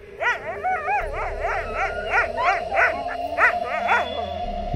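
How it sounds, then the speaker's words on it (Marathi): A dog barks and howls repeatedly in a steady series of rising, yelping cries, close and fairly loud against a low background hum, at Kashedi Ghat on the Mumbai–Goa highway. "तोच त्यांचा कुत्रा पुन्हा एकदा तसाच आवाज काढू लागला"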